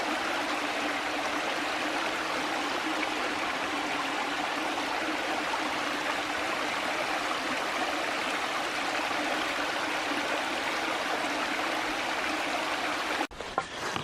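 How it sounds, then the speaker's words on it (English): Water pours steadily down a rocky cascade in Bankhead National Forest, Alabama, a constant broadband rush that fills the whole stretch, close and even, with a brief handling bump at the very end. "This is the nicest cascade I've found so far."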